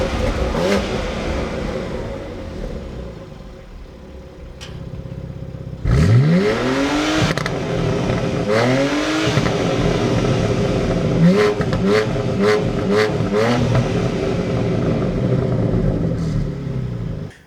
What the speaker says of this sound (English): The X4 and X3 competition also come with the the advanced sports exhaust,